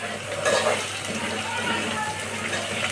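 Finely chopped tomato hits a pan of frying chicken masala ground on a stone, setting off a loud continuous sizzle and hiss with some stirring, a voice talking faintly underneath.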